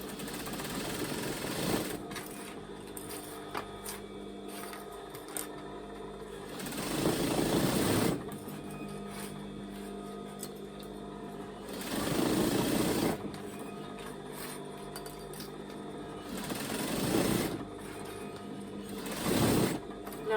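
An overlocker sews the seam of pyjama trousers being turned into men's lounge trousers, with a steady mechanical whir under a continuous voice and louder bursts of stitching every few seconds.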